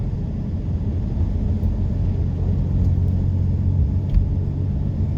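Car rolling through a residential area at about 40 km/h during a G2 road test in Burlington, a steady low rumble of engine and road noise from inside the cabin, with no talk.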